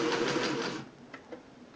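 Singer 600E sewing machine stitching a short stitch: a close, busy motor whir and needle chatter for under a second, then it stops, leaving a few faint mechanical clicks and knocks.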